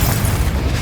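Fire spell explosion from the Hogwarts Legacy video game: a loud, dense low rumbling burst that fills the whole short moment with no gap or talk.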